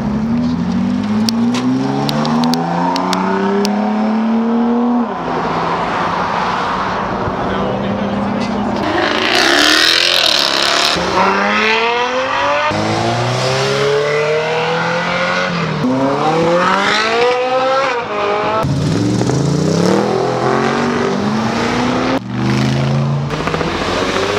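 Ferrari car with its rear wing fully raised makes a fast flyby, engine rising and falling in repeated revving sweeps and passes, loud and close, with voices talking over it.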